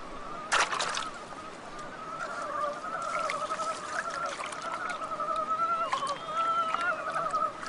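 A chorus of frogs calling in a Russian forest, overlapping warbling croaks that carry on steadily with no one speaking.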